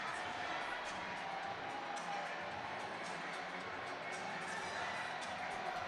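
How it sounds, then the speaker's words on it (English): Spectators at a varsity rugby final between Leeds Beckett and Leeds University make a steady, dense roar of voices, a continuous crowd din with no single voice standing out. "the Leeds Beckett's crowd below us are vocal already and are looking to try and keep the Leeds Uni crowd quiet"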